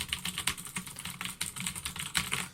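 Steady rapid typing on a computer keyboard, close and clear, with irregular clicks of individual keys running continuously and no voices.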